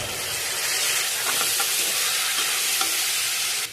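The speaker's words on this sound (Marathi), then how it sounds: "कांद्याला लालसर कलर येईपर्यंत आपल्याला परतून घ्यायचा आहे याला" Onion, potato and kidney beans sauté in a hot pan for rajma, a steady close sizzle and frying hiss with soft stirring scrapes throughout, no talking.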